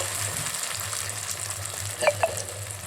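Spiced paste for a pointed gourd (potol) bharta sizzles steadily in oil in a pan after a splash of water goes in. A couple of sharp spatula scrapes come near the end, with no voices.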